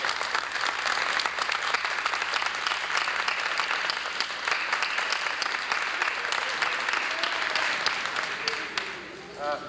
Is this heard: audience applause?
yes